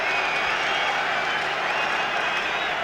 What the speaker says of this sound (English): The crowd is booing.